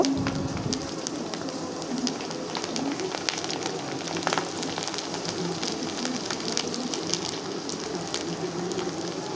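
Flour pitha frying in hot oil make a continuous close sizzle scattered with small pops and crackles, with no one speaking.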